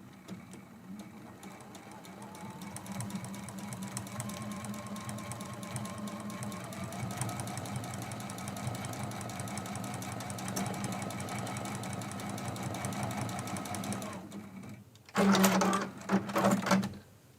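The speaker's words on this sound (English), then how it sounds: "And now we're sewing this sashing piece and the block underneath of it with a 1/4 inch seam allowance." A sewing machine stitches a quilt sashing strip to the block beneath it with a 1/4 inch seam, running steadily at close range for about fourteen seconds before stopping, followed by a brief louder burst of handling noise.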